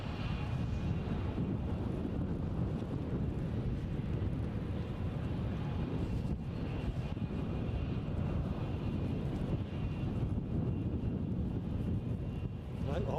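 A British Airways plane inbound from London Heathrow on short final at Edinburgh, a steady low engine rumble with some wind buffeting on the microphone, sustained and moderately distant.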